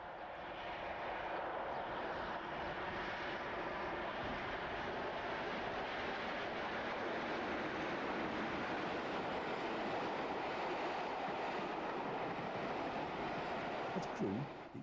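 Two Class 37 diesel locomotives, 37604 and 37611, hauling a railtour train on the first leg of a Cumbrian Coast run from Bristol, a steady continuous rumble and roar of engines and rolling stock passing throughout, with no talk.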